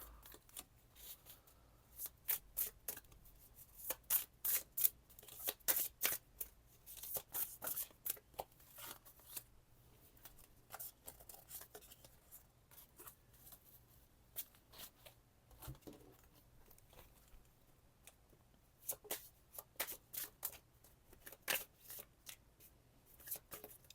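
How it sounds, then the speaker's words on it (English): Continuous tarot card shuffling close up: dense flurries of riffling and slapping cards that come and go in uneven waves, with no voices. "We're going to shuffle it out here."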